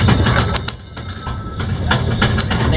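Marvel Cave cable train funicular at Silver Dollar City running along its track, a steady rumble with light rhythmic clicks and rattles, close and continuous.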